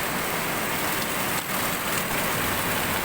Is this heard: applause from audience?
no